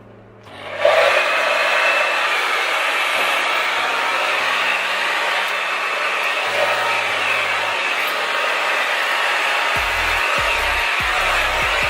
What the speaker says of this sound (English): I'm gonna just start blow drying